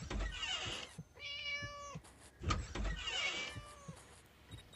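Several drawn-out cat meows from a hidden cat in the Scary Teacher 3D video game, two clear harmonic cries close up with thuds and clatter between them, no talking.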